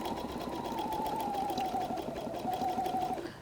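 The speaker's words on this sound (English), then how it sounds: "I'm going to sew with the triple zigzag" A sewing machine runs a continuous triple zigzag stitch with an open toe foot on fabric-covered clothesline rope, giving a steady whirring hum with rapid needle chatter at even speed for the whole stretch.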